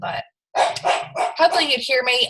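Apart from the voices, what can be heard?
dog barking at someone driving by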